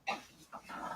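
A dog panting and whimpering in short, breathy bursts close by, loud at first and then continuing more softly with rising breaths.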